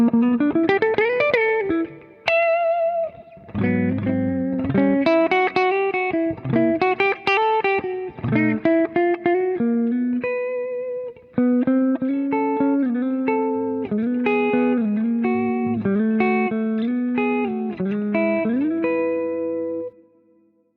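Electric guitar plays through the clean channel of a Mesa/Boogie 90s Dual Rectifier reissue amplifier, heard as clear, ringing picked chords and melodic notes with effects and slides, loud and close, with no voice.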